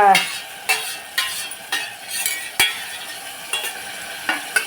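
Rajma and drumstick curry being stirred in a pan, with a series of scraping spoon strokes roughly every half second over a soft background sizzle, close and fairly loud, without any talk.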